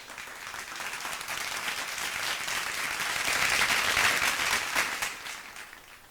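Applause from a large audience at a student award ceremony in a garden venue in Khatauli, swelling to a peak midway before tapering off, with no talking over it.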